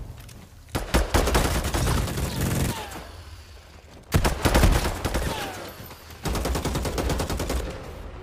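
A minigun fires in a video game in long, loud sustained bursts, roughly three separate streams of rapid gunfire with short pauses between them.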